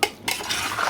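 Idli batter mixed with soda powder and water is stirred with a utensil in a vessel, giving brief scraping and clinking strokes close up, with no talk.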